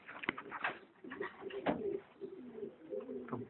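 Pigeons coo softly and steadily, rolling low calls that overlap at close range, faint overall with no talk.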